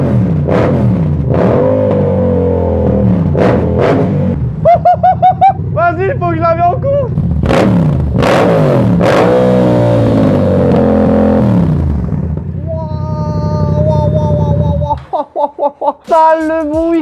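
A motorcycle fitted with an Arrow aftermarket exhaust is revved up close, several sharp, loud throttle blips and bursts rising and dropping, with people talking in between.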